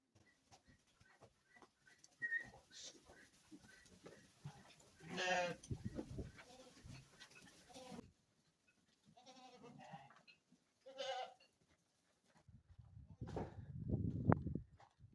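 Lambs bleat in scattered bursts, some close and loud, others fainter, with quiet gaps and rustling between the calls.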